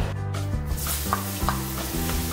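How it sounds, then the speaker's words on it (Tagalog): Garlic and onion sautéing in a pan, a loud close sizzle with steady stirring and a few soft scraping strokes, no voices. "So, gisahin lang natin itong ating onion pati garlic hanggat lumabas po yung aroma niya at maluto po siya"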